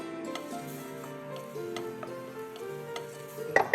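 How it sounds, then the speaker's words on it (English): A spoon mixes the last of the mushrooms with creme fraiche in a bowl, making soft, wet stirring scrapes and a few light clicks under quiet background music, with a sharper clink at the end. "mix the last of those mushrooms with some delicious creme fraiche"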